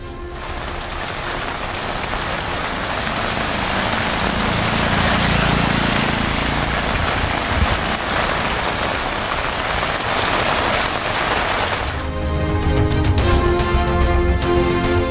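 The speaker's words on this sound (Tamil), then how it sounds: "சென்னை, காஞ்சிபுரம், திருவள்ளூர், கள்ளக்குறிச்சி மாவட்டங்களில் பரவலாக மழை." Steady, heavy rain falls in a dense continuous hiss, close and loud, with a slight change in texture near the end and no voices.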